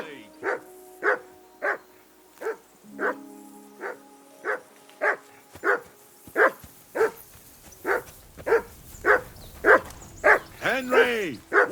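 Dog barking steadily in the medieval open-world game Kingdom Come: Deliverance II, about twenty sharp evenly spaced barks at close range, with a faint voice and a brief tonal sound in the background.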